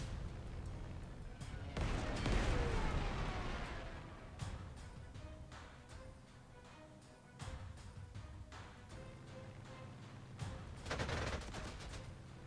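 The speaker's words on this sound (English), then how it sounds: "We'll strafe here. We'll bomb here." Aircraft strafing and bombing in the Panzer Corps 2 strategy game, with bursts of gunfire and heavy explosions rumbling in repeated waves, moderately loud, without speech.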